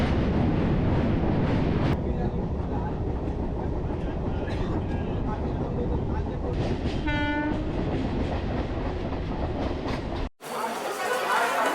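A train pulls into Mecheda railway station in West Bengal with a continuous rumble of rail cars and wind buffeting close by, and a horn sounds briefly midway before the noise cuts out near the end.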